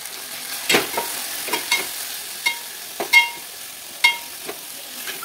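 Masala of turmeric, red chilli powder, garam masala, coriander powder and salt cooking in oil in a pan, with a soft continuous sizzle and repeated scraping clinks as it is stirred, close and moderately loud, no talking.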